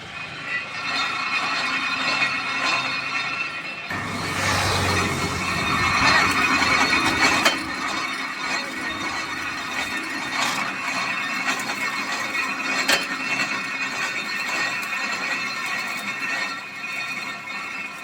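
A sugarcane juice crushing machine runs with a continuous mechanical grinding and rattling drone, gears clicking and squealing, with a louder surge in the middle as cane feeds through, and no talking.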